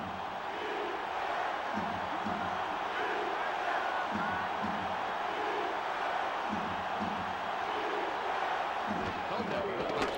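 A stadium crowd roars in an NFL football video game, a broad, steady wash of cheering that holds evenly throughout beneath a commentator talking.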